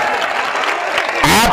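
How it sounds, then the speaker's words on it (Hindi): Mushaira audience applauding at an all-India poetry gathering in Mubarakpur; a short, dense wash of clapping that swells louder near the end, with a voice audible underneath. "अगर सच है तो तालियां बजाइए।"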